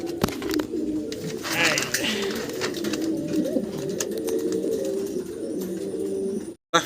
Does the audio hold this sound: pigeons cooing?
yes